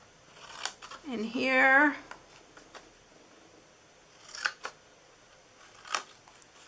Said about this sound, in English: Then we're going to cut in here.